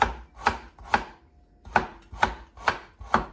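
Vegetables chopped by hand with a knife on a cutting board for kimchi: seven crisp, evenly spaced chops, close and loud with a brief pause midway.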